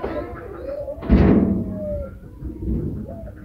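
Pigeons in a home pigeon loft give low, soft coos close by, with a loud thump partway through.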